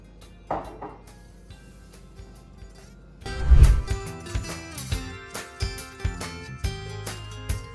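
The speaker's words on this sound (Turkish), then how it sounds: "Çikolatayı da koyayım. Tam olarak karıştıracağım." Chocolate being stirred into triple chocolate cookie dough in a bowl: a quiet start, then a spoon clanking and scraping against the bowl in uneven knocks and clinks, close and moderately loud.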